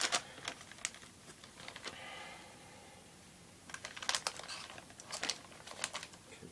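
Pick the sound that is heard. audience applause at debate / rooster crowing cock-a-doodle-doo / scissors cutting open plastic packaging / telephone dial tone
scissors cutting open plastic packaging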